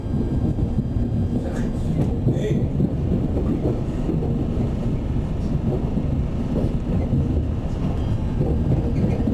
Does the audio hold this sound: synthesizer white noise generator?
no